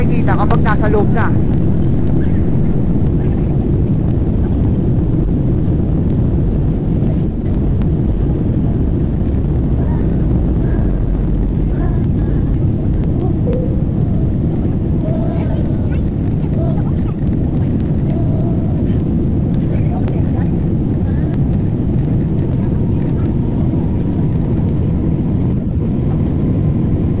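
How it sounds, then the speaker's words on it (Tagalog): Steady, loud airplane cabin roar as a passenger jet departs for Manila, a broad engine and air rumble filling the whole stretch without a break, with faint bumps and rattles on top. "Paalis na ang eroplano sinasakyan ko, pabalik ng Maynila."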